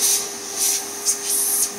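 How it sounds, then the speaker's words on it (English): A vacuum cleaner's nozzle is worked around the rubber gasket of an iRobot Roomba 960 dust bin, giving a close airy hiss that swells and fades in several short bursts as the nozzle moves over the bin. "I'll vacuum the rubber gasket around here."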